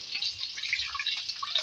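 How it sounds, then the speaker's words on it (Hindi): A glass of water being poured into fried masala in a pan for chicken gravy, a faint, steady splashing and trickling that runs continuously without talk. "इसमें पानी ऐड करूँगी मैं 1 गिलास"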